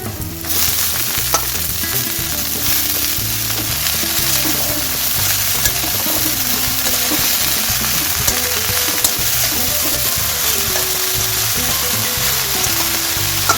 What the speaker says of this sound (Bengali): পেঁয়াজটা একটু ভাজা ভাজা হয়েছে, দিয়ে দেবো শাকগুলো।